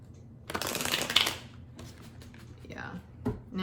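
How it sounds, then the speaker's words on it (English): A deck of tarot cards being shuffled, a quick riffle burst up close followed by softer sliding and tapping, quiet and brief with no speech over it. "Let's shuffle one more time."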